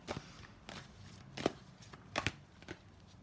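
Tarot cards are shuffled in a few quick, soft riffling bursts with brief pauses between, close and quiet, with no talking.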